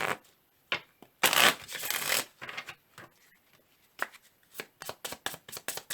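Hands shuffle a tarot card deck nearby in quick bursts of riffling and flicking: a long loud riffle, then a run of short snapping card taps, with no voices.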